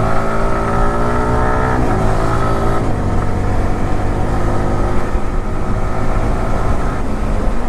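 A motorcycle accelerates hard through gears during a quick shifter test, its loud, steady engine roar stepping through rapid upshifts with sharp pitch drops about every second, close by and continuous with no talking.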